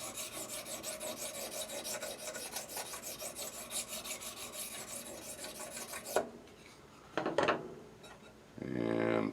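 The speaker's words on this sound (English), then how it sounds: "just work that flat just a little bit. That's the 1200 grit stone." A serrated blade is worked flat on a 1200 grit sharpening stone: a steady, close rhythmic rasping for several seconds, then it stops, followed by a few isolated scrapes and a final short burst of grinding.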